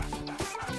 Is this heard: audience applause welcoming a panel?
no